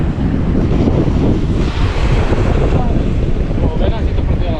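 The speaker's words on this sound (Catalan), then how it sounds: "Comença a manxar el vent." Strong wind roars at sea alongside waves breaking on the shore during a conger eel fishing outing, a steady loud gusting wash that fills the whole stretch with no speech.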